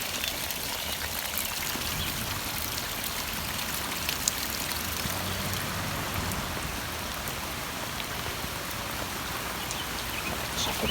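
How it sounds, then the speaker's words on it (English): Rainwater runs through a garden like a small waterfall, a dense steady splashing and trickling that stays loud and even throughout with no voices. "Ooh, interesting to see how the water flows. Got our own waterfall."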